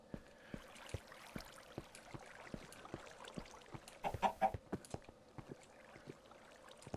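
Minecraft chickens clucking near a tall stone-walled build on a long-running server, short repeated clucks over a steady game ambience, with a louder cluster of calls in the middle.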